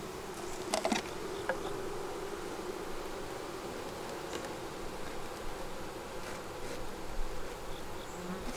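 Honeybees drone continuously inside an open hive during a fall pollen-substitute feeding, a dense, steady, close buzz with a few faint clicks and rustles over it.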